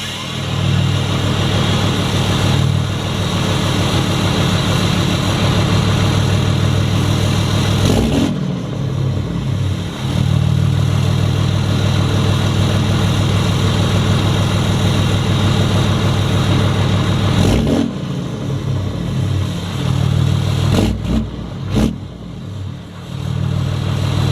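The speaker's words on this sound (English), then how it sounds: "I'm going to give you a few sound clips from the outside of the truck" A loud diesel truck engine rumbles steadily for the whole stretch, idling low with a couple of brief revs and dips, no voices over it.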